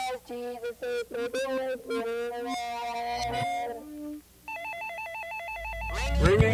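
A telephone rings in a rapid electronic warble for a couple of seconds near the end of a 1990 song, following tonal musical singing earlier.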